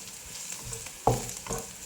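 Crushed garlic cloves stir-frying in a little vegetable oil over medium heat in a pan, giving a soft steady sizzle with a sharper burst of frying and stirring partway through.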